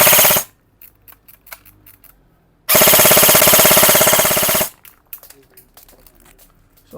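A Lancer Tactical G3 airsoft rifle fires full auto in one loud, close two-second burst of rapid mechanical clatter, set between quiet clicks and handling noises.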